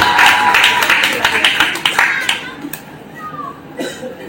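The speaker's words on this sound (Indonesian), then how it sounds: "Beri tepuk tangan yang meriah." Applause from a church audience at an evangelistic gathering, a burst of dense clapping that starts strong, then thins out into scattered claps and fades within a few seconds.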